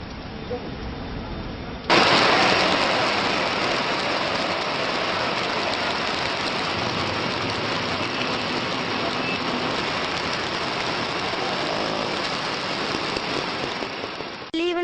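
Heavy rain in Sivaganga district during a cyclonic storm, a dense, loud, continuous hiss that surges in sharply after a softer start and stays steady, with voices underneath.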